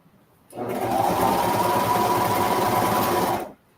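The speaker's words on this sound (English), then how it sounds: "I'm sewing this with a 3/8 inch seam allowance." A sewing machine stitches a seam on kids' boardshorts, running in one steady, close, rapid mechanical whir for about three seconds, starting and stopping abruptly, with no talking.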